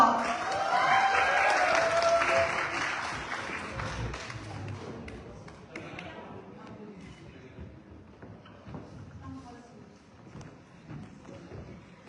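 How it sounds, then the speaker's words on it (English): Audience applause welcoming a couple at an evening anniversary celebration, loud and dense at first, then thinning and fading to scattered claps over about twelve seconds. "let us give our biggest applause as we welcome the star couple of tonight's celebration"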